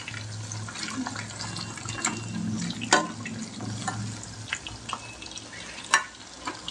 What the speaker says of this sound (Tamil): இன்னும் ஒரு நிமிஷம் வேகட்டும். இப்போ பெரட்டி விட்டுடலாம்.